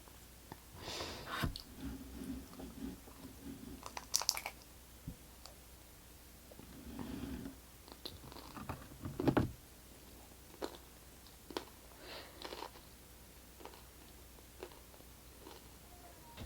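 A Tim Hortons Canada Day firecracker donut being bitten and chewed up close, scattered soft crunchy bites and moist chewing bursts separated by quiet pauses, with faint breathing and no talk.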